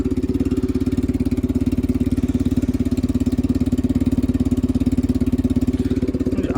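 The outboard engine on a Carolina Skiff J14 boat idles smoothly, a close, loud, rapid and even low chugging pulse that holds steady throughout.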